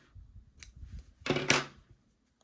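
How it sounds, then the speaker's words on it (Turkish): Scissors snip through yarn while finishing a crocheted hexagon cardigan for children, giving two or three quick, crisp close cuts in a short burst against quiet room sound. "Burada ben ipimi keseceğim."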